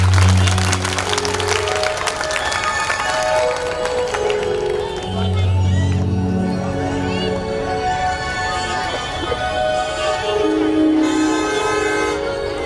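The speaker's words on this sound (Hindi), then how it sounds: "एक बार मंत्र जी का स्वागत करिए ताली बजा।" An audience at a Hindu religious discourse (katha) in Mathura claps to welcome a guest, with sustained, loud applause blending with musical tones throughout.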